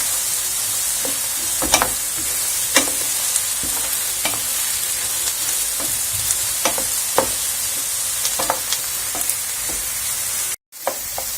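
A red pepper sizzles in a hot pan while being sautéed, with a steady frying hiss throughout and regular scraping stirs breaking through it.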